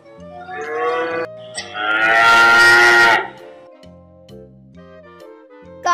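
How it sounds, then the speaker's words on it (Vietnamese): A dairy cow lets out a loud, drawn-out moo in two swelling phrases over about three seconds, close and clear, followed by quiet with a faint sound at the end. "Đây là con bò sữa."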